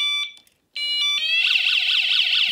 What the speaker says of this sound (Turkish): Burada sireni çalıyor.